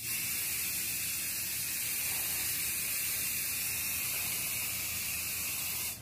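A continuous steady hiss of spray from an aerosol can being applied, fairly even and close for several seconds, with no talk over it.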